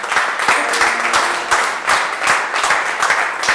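A church congregation at a Paris worship service applauds the Lord with steady, dense clapping that fills the room, rising in a few swells, with a voice partly audible underneath.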